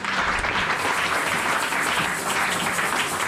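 A church congregation bursts into dense, steady applause that holds at an even, loud level from start to finish with no pauses.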